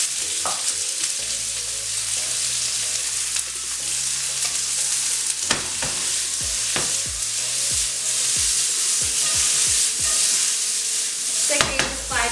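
Vegetables and garlic stir-frying in a hot pan for a chicken pepper stir fry: a loud, constant sizzle with rhythmic spatula scrapes and knocks against the pan, close up, with no talking.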